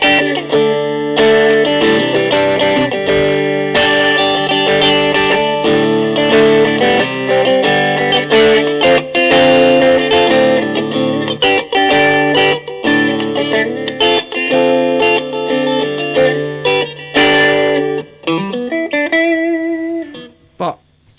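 Telecaster electric guitar played through an external reverb unit into a 12-inch speaker, sustained chords and notes ringing out loud and continuous with wet reverb tails, fading at the end.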